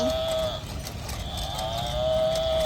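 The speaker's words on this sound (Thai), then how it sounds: "แม่วัวนมของเรา" A dairy cow with a bad hind leg moos loudly and close in a park, a long sustained low call filling the whole moment, alone without talk.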